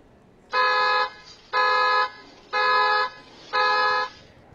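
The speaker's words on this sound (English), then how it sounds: "That car alarm spooked the would-be thief and he took off" Car alarm blaring from a parked car outside a house at night, four evenly spaced, loud, steady electronic honks, each lasting about half a second, with no voices.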